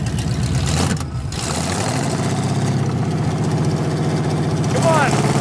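Jeep CJ5 engine running after a cold start, a loud close idle with a rough, throbbing pulse and a brief rev near the end, while people talk over it.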